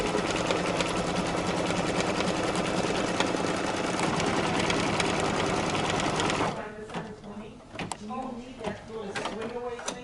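A computerized embroidery machine stitches a placement line on fabric, a dense, steady whir that runs without a break and then thins to lighter intermittent mechanical ticks and thumps.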